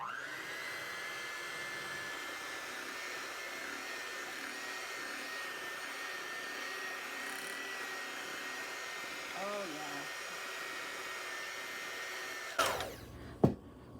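A steady electric mixer whirs continuously while it mixes cake frosting with gel coloring, giving a constant motor hum and whine under faint background sound, then a couple of clunks near the end.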